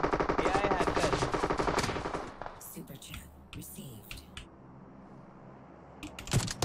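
Gunfire in a multiplayer battle-royale shooter game comes as rapid automatic bursts, loud and dense at first, then sporadic scattered shots, with a player speaking excitedly over them.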